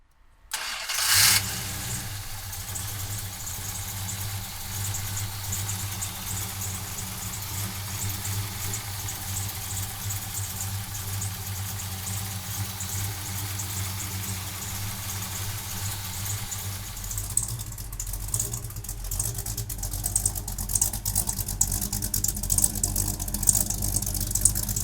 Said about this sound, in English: we're going to fire this HEMI up for you right now.